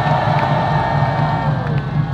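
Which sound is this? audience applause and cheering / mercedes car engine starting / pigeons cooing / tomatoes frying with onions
audience applause and cheering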